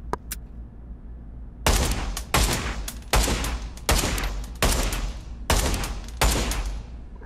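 Gunfire in a PSVR2 virtual reality shooter game, a steady series of about seven loud, sharp shots spaced evenly and heard up close without talk.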